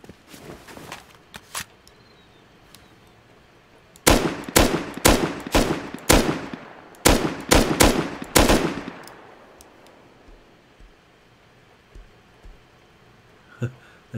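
Gunfire at a player-built shooting range in the survival game Rust: two close, loud volleys of rapid automatic shots separated by a brief pause, with scattered lighter clicks and thuds before and after.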